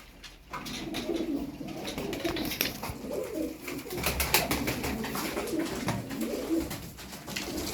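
Show pigeons in a loft coo in low, rolling, repeated throaty calls, several birds overlapping close by, with wing flutters and faint rustling in the background.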